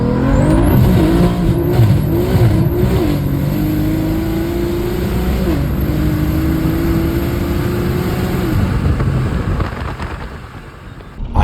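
A Strada Performance single-turbo BMW F80 accelerates hard, its engine note rising through several gears with sharp shift breaks, loud and close, before easing off near the end.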